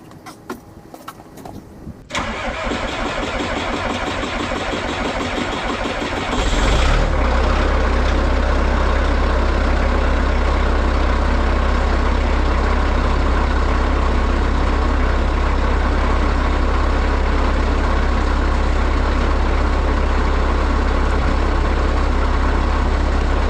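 A truck engine cranks and starts, then settles into a steady, loud idle as it warms up, with a deep low rumble running continuously to the end.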